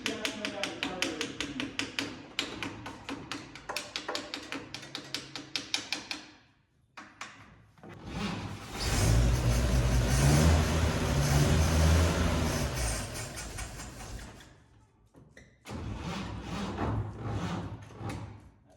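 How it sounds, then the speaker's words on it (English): An aging starter motor on a carbureted vintage car engine cranks in a rapid, even rhythm for several seconds, then a rough burst of engine noise follows. Close, loud, with voices around. "That starter doesn't have much left in it."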